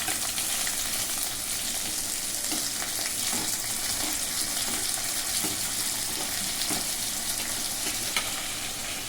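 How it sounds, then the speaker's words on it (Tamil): Steady crackling sizzle of fennel seeds, cinnamon and cloves frying in hot oil, loud and close, continuous throughout with no talking. "சோம்பு பட்டை லவங்கம் போட்டு தாளிக்க போகிறோம்"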